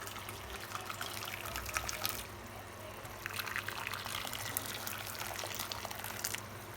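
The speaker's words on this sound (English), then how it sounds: "we're going to pour water in the thing that we season it in" Water runs steadily for about seven seconds as it is poured into a container used for seasoning oxtail, a soft continuous trickling splash with a low background hum and no talking.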